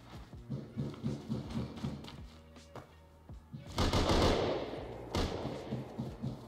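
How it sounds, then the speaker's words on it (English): Gunfire in Rust during a close fight: scattered single shots and short bursts, then a louder flurry of rapid shots with a booming hit near the end, fairly faint overall. "I missed every shot"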